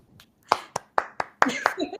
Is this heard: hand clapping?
yes